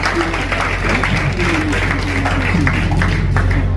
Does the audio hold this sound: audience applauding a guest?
yes